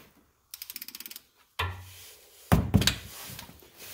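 A 17 mm socket on a ratchet working a Subaru Legacy oil drain bolt: a quick run of close ratchet clicks, then a dull thunk and a sharper metallic knock and rattle as the bolt breaks loose.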